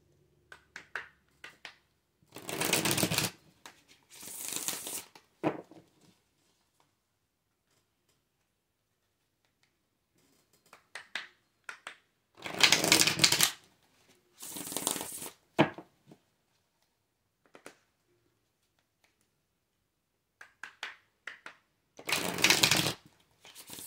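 Tarot cards are shuffled close by in three separate bursts of rapid riffling and flapping, each a few seconds long and separated by quiet pauses with scattered soft card taps.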